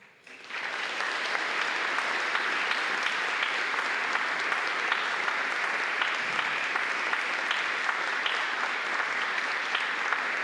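Sustained applause from a large school assembly at an anniversary ceremony, many hands clapping in a dense, even roar that starts abruptly and holds steady.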